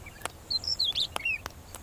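An oxpecker perched on a buffalo gives a string of thin, high chirps and whistles, with several sharp clicks between them in a quiet open setting.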